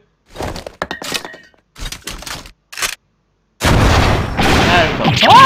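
Gunfire in The Great Ace Attorney: sharp percussive shots and cracks in short separate bursts, then a louder sustained noisy stretch with a rising tone at the end.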